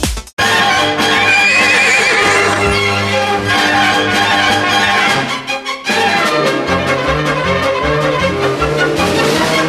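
A horse neighs loudly and repeatedly against dense, continuous background sound, with a short break before the whinnying resumes.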